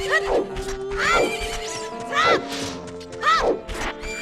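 A young horse in The Legend of Zelda: Ocarina of Time gives four loud, close whinnies at regular intervals, each rising and falling sharply, with faint hoof-like knocks between them.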